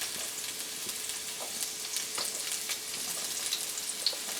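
Steady close-up sizzling of onion rings frying in hot oil, with scattered pops and crackles and no talking.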